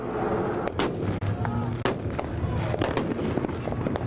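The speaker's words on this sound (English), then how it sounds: "there's still plenty of people lighting up fireworks to celebrate the 4th of July" Fourth of July fireworks pop and crack repeatedly at an irregular pace, some near and sharp, others fainter, over a steady outdoor rumble.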